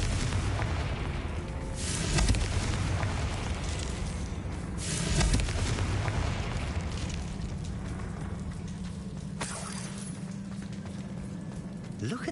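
Confringo blasting spell in Hogwarts Legacy, deep rumbling booms erupting twice over a dense, steady roar of game ambience with a voice talking.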